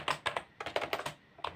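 Quick, light keystrokes tap on a computer keyboard while Dart code is written, an uneven close rhythm of clicks with a short lull near the end before a final burst.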